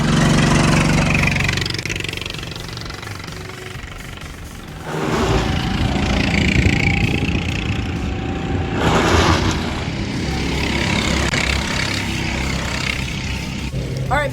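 Rental go-karts at the GoPro Motorplex kart track drone with buzzing small engines, a continuous loud whine that swells and fades as karts pass, with a brief lull before the noise returns.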